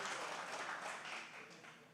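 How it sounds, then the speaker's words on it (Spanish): Audience applause rising for a speaker named Mario at a church sermon, a dense, steady wash of many hands clapping at moderate distance that thins slightly toward the end. "Un aplauso para Mario, porque Mario metió presión ahí."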